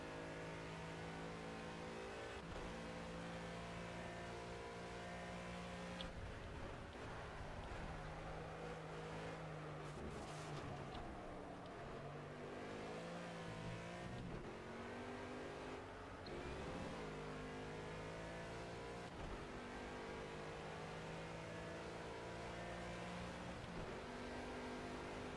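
Race car engine on a timed lap in Project CARS, a racing video game: a continuous loud engine roar that rises and falls through gear shifts for the whole stretch, with no talk.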